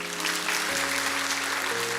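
A church congregation at a Sunday afternoon service claps together in sustained, dense applause, with steady music tones running underneath.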